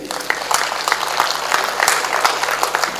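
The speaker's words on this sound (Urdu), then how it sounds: "آپ سے گزارش کرتا ہوں کہ ایک بار ان کی موجودگی کے لیے تالی بجائیے۔" Audience applause at a mushaira poetry gathering at Taj Mahotsav, a dense steady patter of many hands clapping throughout, with no talk over it.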